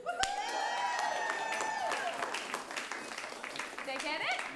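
A live audience at a late-night comedy show whoops and claps, with a rising cheer up front and scattered applause and cries continuing under excited voices.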